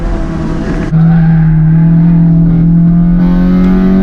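B20 VTEC-engined EF Honda Civic hatch race cars chase a Cadillac CTS-V Blackwing on track, a loud close engine drone holding a steady high pitch after a sudden jump in intensity, with faint tire noise.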